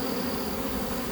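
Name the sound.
honey bees buzzing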